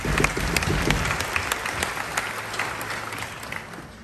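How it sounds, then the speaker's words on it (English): A crowd at a US Army graduation ceremony applauds with dense, sustained clapping that gradually thins and softens. "So let's give them a round of applause."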